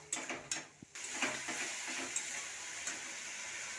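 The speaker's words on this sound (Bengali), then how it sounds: "মশলাটাকে এবার ভালো করে কষিয়ে নেব।" Cumin, coriander powder and turmeric masala sautés in a pan, with a few quick spoon taps and scrapes at the start, then a steady close sizzle and occasional light clinks, quiet overall and with no speech.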